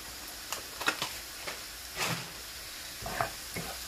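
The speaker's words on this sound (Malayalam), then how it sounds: "ഇളക്കി കൊടുക്കാം." Chili powder, turmeric, coriander powder and other spices fry in a pan while a spoon stirs them, making a soft sizzle with repeated scraping strokes and knocks against the pan.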